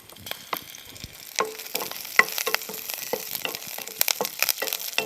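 Curry leaves dropped into hot oil in a pan, a dense, steady crackling sizzle with sharp pops and spits throughout, close and continuous.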